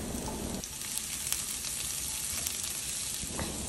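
Onion added to garlic already sautéing in hot oil gives a dense, continuous hiss, loud and close, with small crackles scattered through it and no talk.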